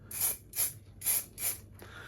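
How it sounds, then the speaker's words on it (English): Static grass layering spray hisses from an aerosol can onto a model railway layout in four short, even bursts, with a fifth softer puff at the end, close and alone. "give it a little light whiff over with some static grass layering spray"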